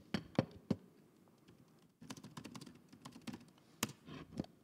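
Someone types a SQLite command on a computer keyboard, a few separate keystrokes followed by a brief pause and then a quicker run of soft, close clicks.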